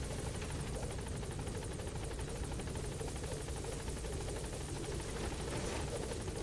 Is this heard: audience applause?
no